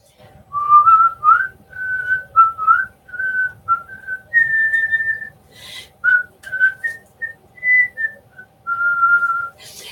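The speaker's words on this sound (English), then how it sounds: "you could whistle him a refrain" A person whistles a clear, lilting tune alone, phrases of bright notes rising and falling with short pauses between them.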